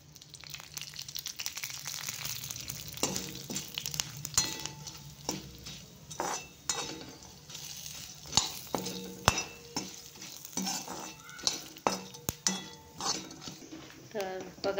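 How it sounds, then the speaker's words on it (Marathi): Cinnamon sticks roasting in a little oil in a pan for homemade black masala, a faint sizzle under repeated scraping and clinking of a spatula against the metal, with a voice speaking intermittently. "तर बघा दालचिनी पण झालेली आहे भाजून"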